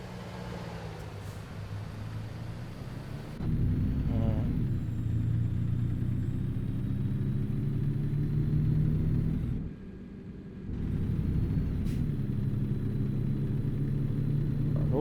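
Truck engine driving in American Truck Simulator, a container carrier rig: a low, steady motor drone that drops out briefly and returns, steady and fairly near.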